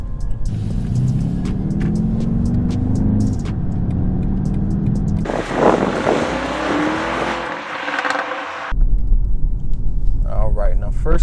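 Engine of a 2020 BMW X6 M50i under way, its loud rising drone climbing through gear changes with an abrupt step in tone, while a voice talks over it inside the cabin.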